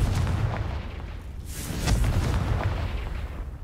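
A fiery Confringo blast spell goes off in Hogwarts Legacy, a deep rumbling boom with crackling bursts, loud and close, rolling for a few seconds with no talk.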